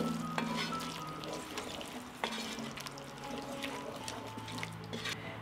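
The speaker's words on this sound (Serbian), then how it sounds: "Sve ću to promešati." Vegetables fry in a pan seasoned with salt, black pepper and ground Hungarian red paprika while being stirred, giving a steady close sizzle with a few soft scrapes and knocks and no talking.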